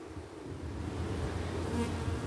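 Honeybees at an open beehive buzz in a steady, dense drone close by, continuous and fairly loud throughout with no talking.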